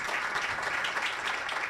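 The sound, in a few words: audience applause for the panel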